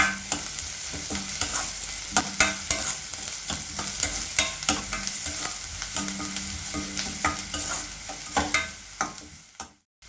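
A spiced onion mixture for mini kozhukattai sizzles and fries in a pan while a spoon stirs it steadily, with frequent scraping clatters over a continuous loud hiss until a sudden stop at the end.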